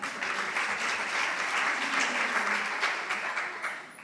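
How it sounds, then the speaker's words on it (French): Applause from an audience at a formal event, many people clapping in a steady, moderately loud patter that holds for several seconds before tapering at the end. "Et je pense que ça se mérite d'être applaudi."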